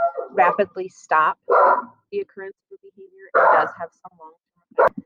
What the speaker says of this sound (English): I apologize if you heard my dog barking in the background.